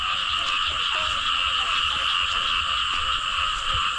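Loud, unbroken frog chorus in rice paddies after heavy rain, many croakers calling at once in a steady, pulsing drone with no voices.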